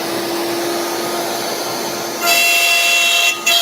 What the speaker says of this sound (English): We're going to put the extractor on,